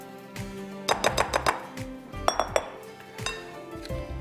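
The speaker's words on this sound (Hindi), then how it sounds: "और इसको आप मिक्स कर दीजिए" Potato salad is stirred with dressing in a bowl, giving irregular clinks and knocks of a utensil against the dish in quick bursts, close and moderately loud, with no talk.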